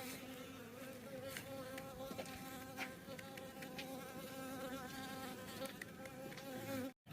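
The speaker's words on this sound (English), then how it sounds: "our bees already found our wax processing site, and they came here to eat some honey" Honey bees buzz steadily around a beeswax rendering site, a dense layered hum with individual insects droning past, faint and continuous.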